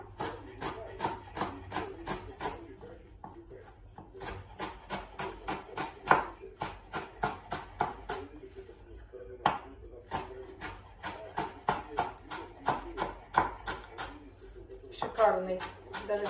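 Sorrel leaves are chopped with a knife in quick, crisp bursts of tapping strokes, separated by short pauses, close and clear.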